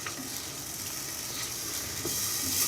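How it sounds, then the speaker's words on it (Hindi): Chana dal masala frying in a pan, a soft, steady sizzle with light stirring sounds, fairly quiet and continuous, rising slightly toward the end. "इसको हम 3 से 4 मिनट तक इसको अच्छी तरह भूनूंगा"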